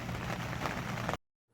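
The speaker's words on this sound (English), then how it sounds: "before the rain gets too vicious" Heavy rain beating outside a greenhouse, a loud dense rushing patter with low rumble that cuts off abruptly into silence after just over a second.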